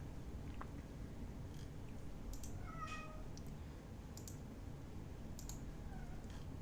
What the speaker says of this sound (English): Can you guys hear him meowing in the background?